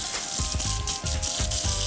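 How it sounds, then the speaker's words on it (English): Hot tap water runs into a kitchen sink for hand washing after handling raw poultry, a steady close splashing rush that fills the whole moment without speech. "you gotta wash your hands. Need some hot water."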